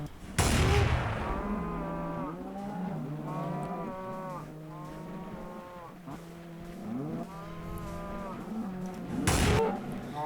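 Blocky Minecraft cows moo repeatedly in overlapping low drawn-out calls, with a sharp gunshot burst near the start and another near the end, all fairly close and loud.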